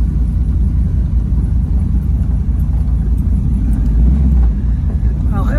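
A 1932 Chevrolet all-steel rumble seat roadster rolls slowly over gravel, its low engine rumble steady and close throughout with a continuous crunchy road noise underneath.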